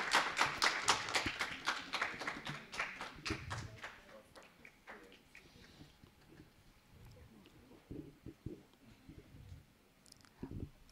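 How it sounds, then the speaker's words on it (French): Audience clapping at an honouring ceremony, a burst of fast, loud applause that fades away within a few seconds, followed by scattered claps and taps in a quieter room. "A louder clap."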